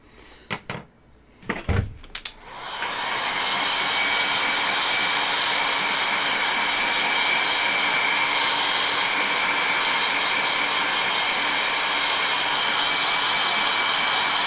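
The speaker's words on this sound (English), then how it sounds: "the heat gun is now set to minimum, so it should not really do any damage to any of the foamwork" A few clunks and handling knocks come first, then a heat gun on its minimum setting switches on and blows a steady, even airflow whoosh that runs unchanged to the end while foam props are worked on.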